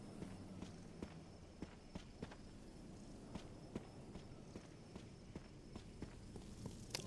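A shambling zombie moves somewhere nearby in Resident Evil Remake, Jill's campaign: irregular light steps and thuds repeat through several seconds over a constant low background drone. Nobody speaks.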